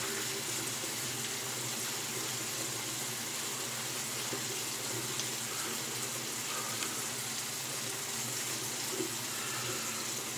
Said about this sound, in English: I'm going to go with cool water out of the tap.